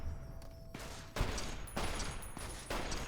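Gunfire in the video game Fallout: New Vegas, a quick series of roughly five sharp shots fired in close succession, each followed by a brief echoing decay.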